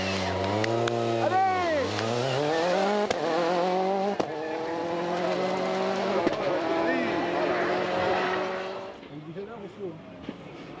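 A Peugeot rally car at a 2003 French rally championship stage roars past at speed, its engine howl sweeping and shifting pitch as it goes by, with crowd voices shouting over it before the noise fades.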